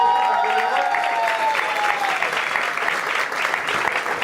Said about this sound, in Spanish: les pido un aplauso bastante fuerte